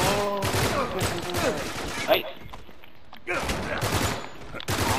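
Rapid bursts of gunfire in Uncharted 3 co-op crackle in clusters with short pauses, while a voice shouts briefly in Thai over the shooting.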